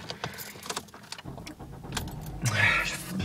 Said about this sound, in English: Time to do that thing where I start my car and then turn it off immediately so that the fucking battery doesn't die.